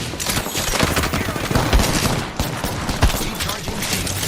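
Rapid, continuous gunfire rattles through a battle in the Genshin Impact video game as a dense, loud barrage with a few heavier thuds.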